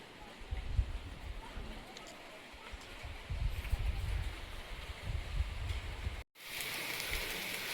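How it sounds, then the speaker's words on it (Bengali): Heavy rain pours steadily onto wet tin roofing, a dense continuous patter that runs throughout, cutting out for a split second near the end before resuming with a brighter hiss. "ভালো রকম বৃষ্টি হচ্ছে।"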